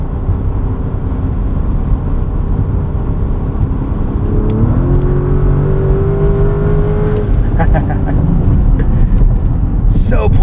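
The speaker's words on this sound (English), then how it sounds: "You can really hustle this Cayenne S, push it so hard." A 2024 Porsche Cayenne S is driven hard at night, its engine roaring loudly and steadily with rising pitch as it accelerates, shifting partway through, the note dominating throughout.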